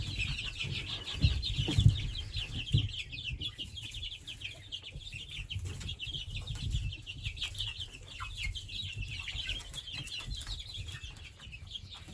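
Spring chickens cluck and chatter steadily at close range, a dense, continuous flock sound with a few louder squawks and some wing flapping, and no talking.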